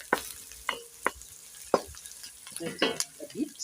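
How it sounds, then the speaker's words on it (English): Onions frying and being stirred in a pan for mukimo, giving a soft sizzle under scattered scraping strokes and clatters, while a voice speaks briefly near the end. "We have to wait for the onions to be golden brown so that our food will be very tasty."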